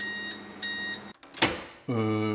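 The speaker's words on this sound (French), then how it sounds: "on va tout simplement venir mettre nos plateaux au micro-ondes. Et on va laisser tourner pendant 3 minutes." A microwave oven hums steadily while making chips, then goes quiet with a brief clunk and rustle before the low electrical hum starts up again, close and moderately loud.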